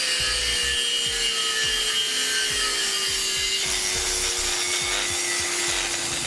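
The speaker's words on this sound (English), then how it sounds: "we're going to cut that out on the bumper beam as well." A power saw cutting through the bumper beam of a 2015 Kia Soul, a loud continuous rasping with a rhythmic back-and-forth stroke and a steady high whine, close up with no talking.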